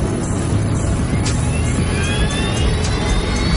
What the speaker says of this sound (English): the plane starts down the runway